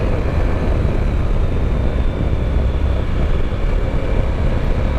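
Triumph Tiger 1200 Rally motorcycle engine on a mountain road in Tennessee, a steady loud drone with wind rush, throttle surging slightly without clear breaks.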